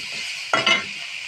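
Chopped onion and garlic hit hot oil in a pan of frying shrimp. A sudden loud sizzle bursts up, and a quick stir follows over a steady frying hiss.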